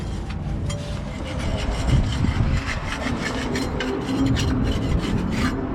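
Steady, loud scraping of built-up residue off the inside of a drum, a continuous rasping grind with repeated strokes, close and without talk.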